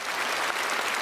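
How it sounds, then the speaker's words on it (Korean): A church congregation at Sunday worship claps in a dense, loud burst of applause, the sound filling the whole moment with no speech over it. "박수하겠습니다"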